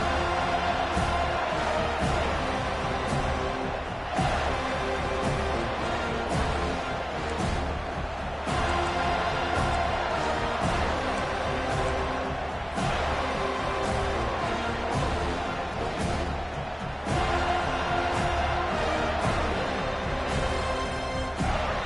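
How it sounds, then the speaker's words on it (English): Loud, continuous stadium crowd roar and cheering in an NCAA 25 college football video game, a dense wall of noise swelling and sustained throughout an opening kickoff with no talk over it. "This crowd bringing an ear-splitting welcome to their visitors."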